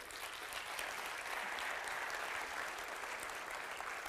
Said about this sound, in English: That always gets the most claps